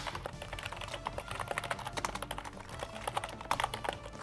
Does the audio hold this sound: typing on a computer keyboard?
yes